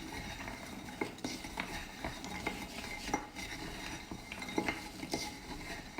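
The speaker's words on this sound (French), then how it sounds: "Et là, on va remuer au fur et à mesure" A utensil stirring melting sugar into caramel in a pan, giving soft continuous scraping with scattered light clinks, close and fairly quiet, no voices.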